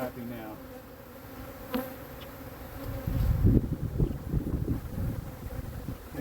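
Agitated honeybees around an opened swarm trap drone in a dense, rising buzz that grows louder and closer halfway through, with gusty wind noise on the microphone.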